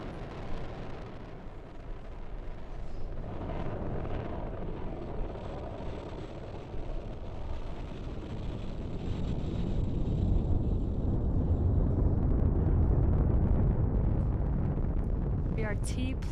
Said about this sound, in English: Liftoff of the Falcon 9.